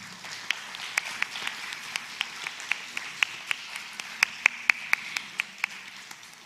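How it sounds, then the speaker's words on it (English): Clapping for the musicians at an arangetram dance debut: a sparse, thin patter of scattered individual claps from a small audience, with distinct sharp claps standing out above a quiet background and no voices. "A big round of applause for all of them."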